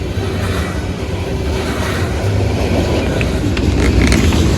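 A CSX freight train with a mid-train DPU rolls past the England Street crossing on a wet day, a loud, steady rumble and rattle of wagons that builds slightly toward the end, with no talking.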